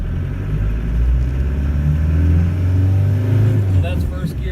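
A 1993 Land Rover Defender 110 with a 200Tdi diesel engine pulls away, a loud, deep, steady rumble building over a few seconds, heard from close by.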